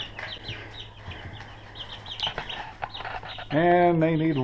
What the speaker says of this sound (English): let's go check the chickens